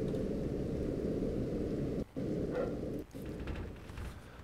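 Steady, dense rain in the video game Underhell pours continuously, a loud full hiss with a low rumble beneath, briefly dipping twice as if cut.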